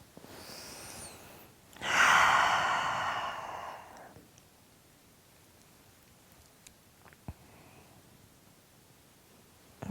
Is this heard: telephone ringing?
no